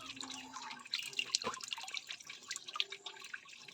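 Tap water runs and drips softly over mushrooms being washed in a sink, a faint, uneven trickle with small splashes and no talking.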